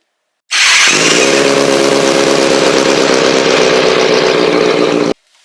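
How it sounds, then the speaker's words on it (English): A Kawasaki 636 motorcycle fires up and settles into a loud, steady idle while warming up after an oil change, running continuously at close range for several seconds before cutting off abruptly. "let it warm up, let the oil run through the motor"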